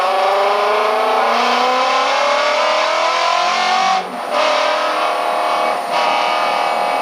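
Ford GT350 braking hard on the Circuit of the Americas race track, with a loud, close onboard engine drone whose pitch slides and briefly dips as the car slows.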